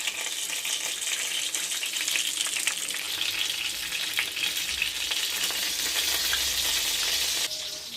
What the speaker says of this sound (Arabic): وكيف يتقلاو من الجهتين بالباهي، ما نخليوهمش هكذا يتحرقوا، ياخذوا كلون مذهب مزيان